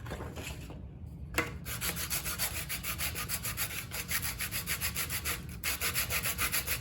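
Wood being hand-sanded along the grain with 150 grit sandpaper in a workshop, a steady run of rhythmic back-and-forth rubbing strokes, close and fairly loud, with one brief pause early on.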